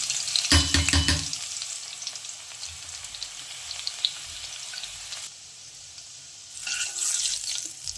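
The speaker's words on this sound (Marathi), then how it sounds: "आपण पहिलं लसूण टाकणार." Garlic goes into hot oil in a kadhai and bursts into a loud sizzle, which then settles into a quieter steady fry before a second louder crackling swell near the end.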